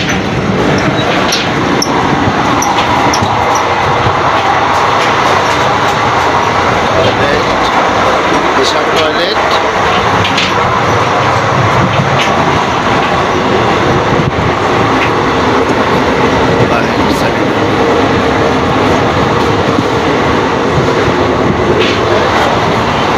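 A loud, constant rumble and rattle of a moving Kolkata-to-Jammu train carriage passing through Uttar Pradesh fills the whole stretch, with people talking faintly within the noise.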